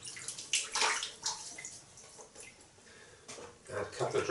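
Water splashes in a sink as hands scoop and wet a face before a shave, giving soft irregular sloshes and drips, close and fairly quiet.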